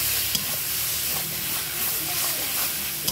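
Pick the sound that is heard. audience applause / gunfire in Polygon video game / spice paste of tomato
spice paste of tomato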